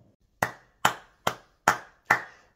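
Five sharp, separate hand claps ring out alone at an even, unhurried pace, each one crisp and close with a quick decay, like a short applause sound effect.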